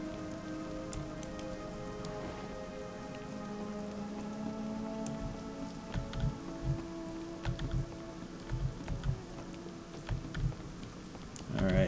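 Rain patters steadily in a World of Warcraft game world, a soft continuous shower with faint droplet ticks, joined by light clicking and a low musical drone beneath.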